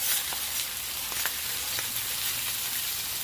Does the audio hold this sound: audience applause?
no